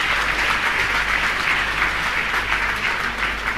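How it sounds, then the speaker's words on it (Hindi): Audience applause at a religious question-and-answer gathering, a dense, continuous burst of many hands clapping, loud and close, filling the whole moment with no talk over it. "एक बार जोरदार तालियों से"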